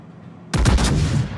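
Naval guns of the Tier 10 British battleship HMS Thunderer fire in World of Warships: after half a second of low background, a sudden loud booming salvo erupts and rolls on with heavy rumbling reverberation.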